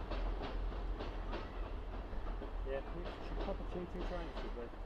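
A train rumbles past over a viaduct with rhythmic clickety-clack from the wheels, steady and fairly close, while people talk over it.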